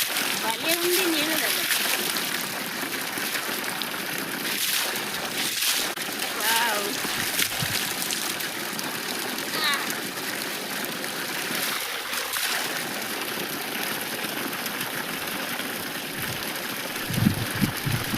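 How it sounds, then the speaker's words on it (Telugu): Water gushes steadily from a borewell pump outdoors, a loud continuous splashing rush with an engine hum beneath it and a person speaking over the flow. "కానీ ఇప్పుడే పంపు నిండా వస్తాయి"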